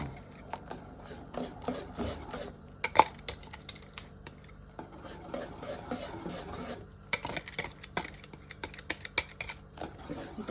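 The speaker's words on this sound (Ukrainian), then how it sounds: "І тепер ми цю суміш виливаємо в наше молочко і так добре-добре весь час помішуємо." Whisk or spoon scraping and stirring vanilla custard cream in a pot for a Napoleon cake, a steady rasping with quiet clinks against the metal, close and fairly soft throughout.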